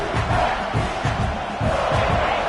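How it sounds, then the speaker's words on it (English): Home crowd roaring steadily throughout at a Clemson vs South Carolina college football game, a loud, dense wash of cheering and shouting from a packed stadium with no clear pauses. "this home crowd is fired up and ready to make a difference today"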